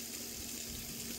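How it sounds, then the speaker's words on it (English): Tap water runs steadily into a bucket outdoors, a continuous rushing splash at moderate level with no voices. "filling up this bucket with water to put over there"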